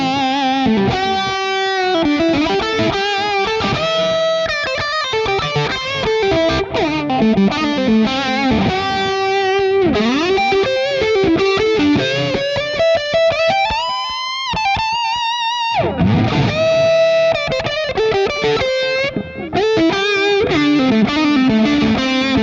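A distorted electric guitar plays a lead line through a Mesa Boogie Stiletto Deuce amplifier on its lead channel, singing sustained notes, bends and fast runs, loud and continuous without talking.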